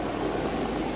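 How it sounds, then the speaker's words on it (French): A helicopter drones steadily in a French film scene, a loud, dense engine and rotor roar filling the whole moment without voices. "L'hélicoptère a été rappelé par Kramer"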